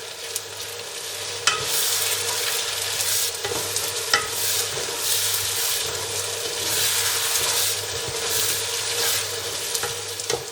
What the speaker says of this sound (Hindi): ये हल्दी मसाला डालेंगे। अब इनको भूनेंगे।